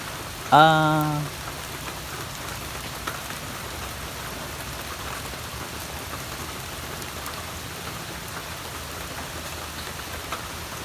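Steady rain falls on a garden throughout, a continuous soft hiss of drops on a surface, with a brief harmonic tone near the start.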